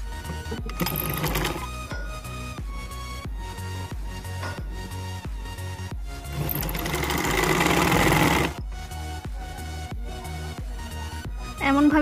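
A sewing machine runs in fast, even bursts with short pauses between them, stitching a neck strip and zipper onto a maxi dress. The mechanical chatter is close and steady, with one longer, louder run near the middle.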